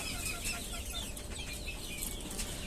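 Native crested chickens on a farm cluck softly and intermittently against a constant hiss and rumble of background noise, the bird calls faint and somewhat distant.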